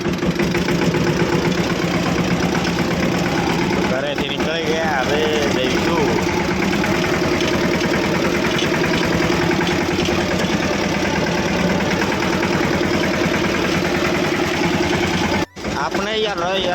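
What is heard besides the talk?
tractor engine running while driving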